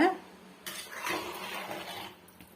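A spoon scrapes and clatters against a metal pan while tomato pickle is mixed with mustard and fenugreek powder. One close, continuous stretch of scraping starts after a short pause and then fades.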